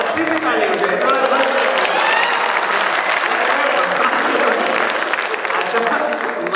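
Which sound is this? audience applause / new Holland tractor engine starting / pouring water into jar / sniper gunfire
audience applause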